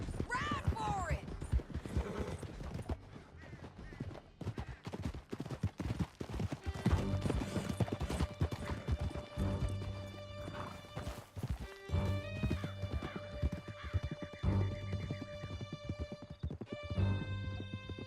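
Several horses gallop hard in Red Dead Redemption 2, a steady clip-clop of hooves with whinnies and neighs, layered under a swelling orchestral score and occasional crashes, loud and close throughout.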